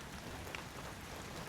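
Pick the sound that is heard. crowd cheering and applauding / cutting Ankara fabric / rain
rain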